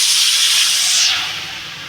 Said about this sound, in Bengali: তেলটা গরম হয়ে গেছে কাঁকড়াগুলো ঢেলে দেবো